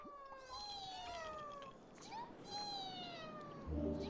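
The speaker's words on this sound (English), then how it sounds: "Kind of sound a little bit more like mewling cats than birds." Small creatures in the game Honkai: Star Rail mewl like cats, several high, sliding meows overlapping at moderate distance over soft ambience, with a brief louder sound at the end.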